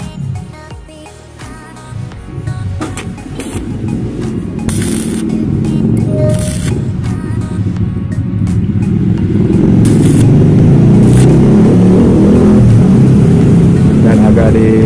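A motorcycle fitted with a modified wolf-howl exhaust revs in a workshop. Its rough, low rumble builds steadily louder and holds near and strong, with voices talking over it.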